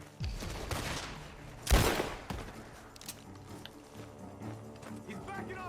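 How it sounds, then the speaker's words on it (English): Gunfire around a barn in the Red Dead Redemption 2 video game: a volley of close, cracking shots with one loud blast in the middle, then scattered mechanical clicks and faint distant shots. "The gunshots are coming from that barn."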